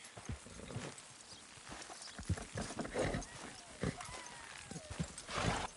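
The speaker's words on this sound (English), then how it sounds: "Good horses." Horses clip-clopping in Red Dead Redemption 2, a series of irregular hoof strikes at close range, moderately loud, with faint background game sounds between the steps.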